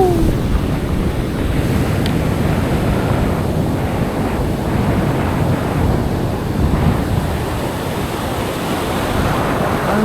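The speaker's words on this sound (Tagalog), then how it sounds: "Ang lalakas na ng alon mga master." Strong ocean waves churn and wash without a break at sea while wind buffets the microphone, a dense, loud roar that holds steady throughout.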